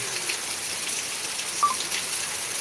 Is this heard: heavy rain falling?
yes